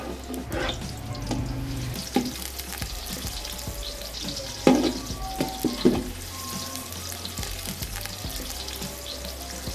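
Finely chopped onion frying in a bowlful of hot ghee for beef yakhni pulao, a crackling sizzle under repeated spoon clinks, scrapes and stirring knocks, with no speech.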